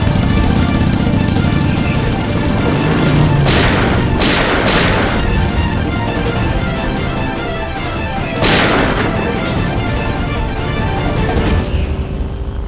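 Gunfire in a TV crime drama: loud, close shots crack out in a quick cluster of three, then a single shot several seconds later, over a dense, constant background of music and noise.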